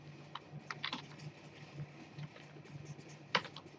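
Typing on a computer keyboard while coding, with irregular light key clicks in short bursts and one sharper tap near the end, close and fairly quiet over a faint low hum.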